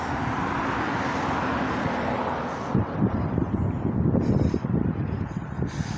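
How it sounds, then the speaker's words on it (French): Strong wind buffets the microphone outdoors in a nature park, making a continuous low roar that turns gustier and more rumbling partway through. It stays loud and close, and nobody speaks. "Il y a beaucoup de vent aujourd'hui"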